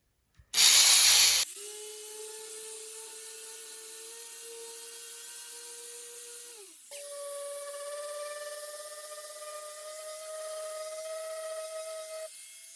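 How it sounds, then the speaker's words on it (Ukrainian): A brief hissing burst, then a cheap oscillating multi-tool sanding pine wood along a straight line whines steadily with a high-pitched hum, its pitch shifting once midway as it runs on. "побачимо, як вона шліфує по прямій"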